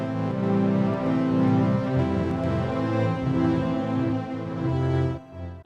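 Sonicware Texture Lab granular processor playing back randomly recorded parameter changes with delay and blend, producing a dense, glitchy, shifting texture with stuttering jumps, steady and loud without any voice, trailing off at the end.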